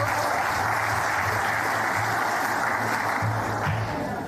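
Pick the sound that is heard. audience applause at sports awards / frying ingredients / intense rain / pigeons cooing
audience applause at sports awards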